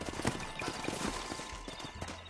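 Horses in the video game Red Dead Redemption, hooves clopping on the ground in an irregular rhythm at moderate distance, fairly quiet beneath a steady background.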